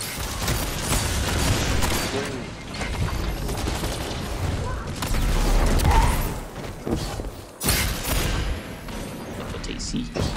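Dense Destiny 2 gunfire and mechanical game effects in a fast multiplayer match, loud and continuous with bursts and a brief drop, mixed with a game announcer and player talk.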